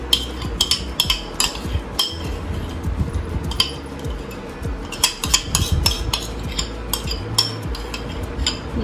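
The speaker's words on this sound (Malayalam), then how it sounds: "ഇതെല്ലാം കൂടെ നമ്മൾ നന്നായി മിക്സ് ചെയ്യും" A spoon stirs and mixes ingredients in a bowl, producing repeated clinks and scrapes against the sides in an irregular rhythm, close and fairly loud, with no talking.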